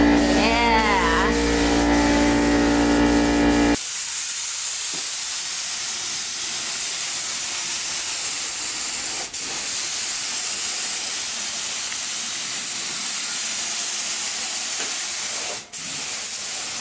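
A steady loud hiss of spray paint on a Nissan 350Z in a garage, applying a third coat, continues for a long stretch with brief pauses, after a short opening of music and voice.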